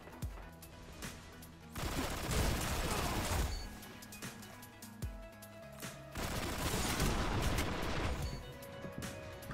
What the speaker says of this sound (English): It's a max rate of fire weapon.